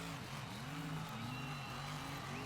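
Two drag-racing trucks launch off the line for the final round at an Indy Madness race in Elm Mott, Texas, their engines roaring loud and steady with rising and falling revs, close and continuous throughout.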